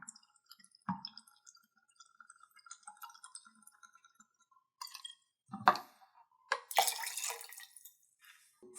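Reposado tequila poured for a cranberry margarita: a quiet liquid trickle and faint clinks of glass or jigger, followed by a few louder splashing pours near the end, with no talking.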